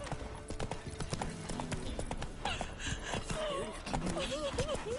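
A horse gallops in The Witcher 3 video game, with rapid, steady hoofbeats over a busy game soundscape, a whinny rising near the end, and voices talking over it.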